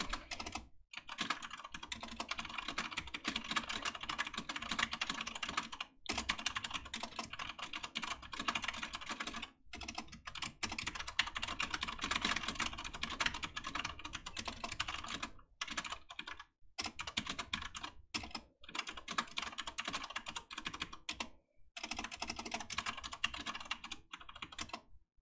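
Continuous rapid typing clatters on a computer keyboard, dense and close, with short pauses between bursts across a long stretch of transcribing the Bee Movie script.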